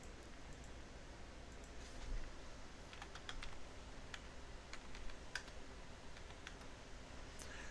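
Keys pressed on a TI-84 graphing calculator during data entry, faint and sparse clicks scattered irregularly over a quiet background hiss.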